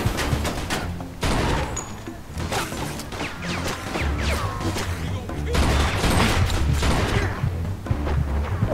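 Gunfire in the Mafia 2 video game: rapid bursts of shots and sharp impacts crackle in uneven clusters across the scene, loud and close, with some voices mixed in among the shooting.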